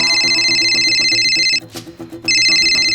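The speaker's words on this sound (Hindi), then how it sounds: "फोन उठा उसका।" A telephone ringtone rings loudly and steadily in repeated electronic tones, cutting out briefly near the end before resuming, with no speech.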